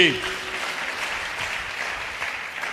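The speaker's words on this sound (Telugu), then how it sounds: "చప్పట్లు కొట్టండి" A church congregation claps together after a preacher's call during a sermon on family quarrels, dense sustained clapping filling the room, with a brief voice at the very start.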